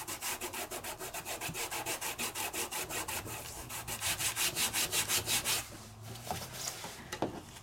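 Craft card being burnished with a hand tool, a steady run of quick, even rubbing strokes that speeds up, then stops, followed by a few scattered scrapes and taps.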